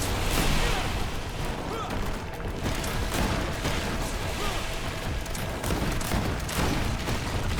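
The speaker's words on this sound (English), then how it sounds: "What am I shooting at?" Gunfire during a fight in GreedFall, a steady busy stream of shots and crashing impacts at moderate level, with a player speaking over it.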